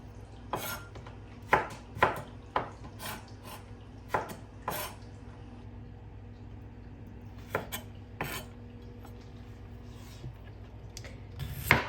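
A knife carves through pork on a board, giving a series of close, irregular knocks and scraping strokes against a quiet kitchen background, with no talk.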